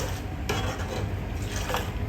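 A spoon stirring karak tea made with homemade evaporated milk in a pan, giving soft scraping and light clinks against the metal over a steady low simmering hiss, close and without talk.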